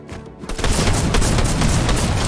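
Rapid gunfire from a new gun in the video game Fortnite, a dense, loud burst of shots that starts after a quiet half second and continues steadily to the end.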